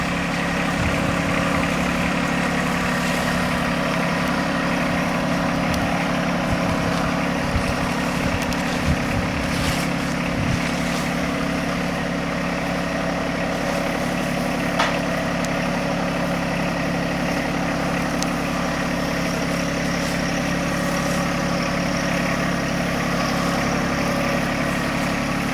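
A John Deere 1025R compact tractor with loader and backhoe idles steadily nearby, a continuous low engine drone with a faint mechanical rattle running throughout, no voices.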